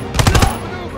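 Rapid bursts of automatic gunfire in the World War II shooter Call of Duty WW2, about five close, loud shots in quick rhythm, then fading to a quieter battlefield hum.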